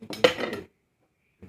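Two metal spoons strike together in a quick cluster of bright clinks lasting about half a second, close and fairly loud, followed by silence and a faint final tap.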